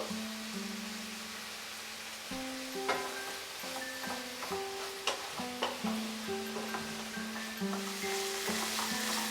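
Ash gourd curry fries in oil in a pan while a spoon stirs it, producing a soft steady sizzle punctuated by intermittent scraping clicks, close up and without any talking.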